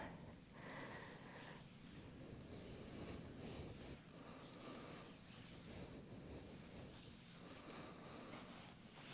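Wind gusting and buffeting steadily on a spring day, a broad rushing roar with rumbling bursts, continuous and loud with no voices.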